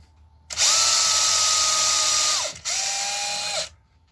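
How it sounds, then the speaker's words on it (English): A power drill bores into the body of a Goldtop Les Paul guitar build, whining at a steady pitch for about two seconds, stopping and winding down briefly, then boring again for another second, loud and close. "pull the drill out quite often, do about half an inch"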